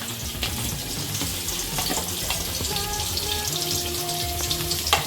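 Onions and chillies fry in hot oil in a pan, a steady close crackling sizzle with a few utensil taps, no speech.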